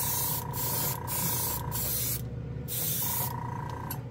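A Gaahleri airbrush with its compressor sprays anodized-metal colour paint in a steady close hiss, broken by several short pauses as the trigger is released.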